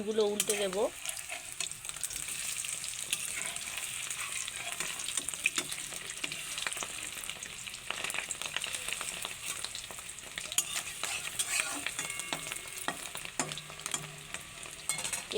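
Katla fish roe fritters, just turned over, crackle and sizzle in hot oil, a brief utensil clatter near the start, then a steady bubbling hiss with scattered pops and light stirring.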